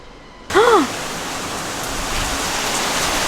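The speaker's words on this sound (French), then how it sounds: "Il pleut" Steady rain falls outside in a broad, even hiss that continues throughout, with a short tonal chirping sound near the start.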